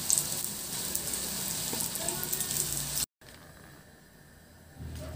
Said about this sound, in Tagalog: ipa-pan fry na natin yung pata natin.